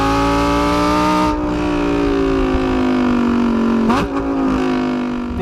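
The naturally aspirated V10 of a Lamborghini Huracan EVO RWD, driven in Corsa mode, howls loud and close as it pulls hard through the revs, with a sharp shift blip partway through before the scream resumes.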